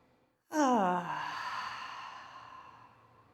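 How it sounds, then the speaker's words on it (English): One deep, audible breath, in and then out, taken while lying on the back during a therapeutic yoga class. It begins abruptly with a strong, close, sigh-like rush and then fades slowly into a long, soft exhale, with no talking. "Take an inhale and an exhale."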